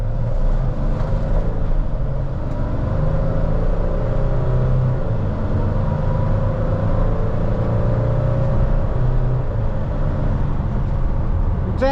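A 2020 Mercedes Sprinter 2500 van drives under hard acceleration, its engine a steady, loud, close rumble and whir with road noise that runs through the whole stretch without a break.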